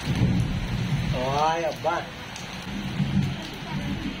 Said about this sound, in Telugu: ఎంత భయంకరమైన వానగా